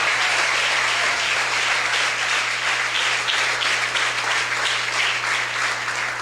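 Sustained applause from a church congregation at a Spanish-language evangelical service, dense steady clapping filling the room for the whole stretch with a low hum beneath.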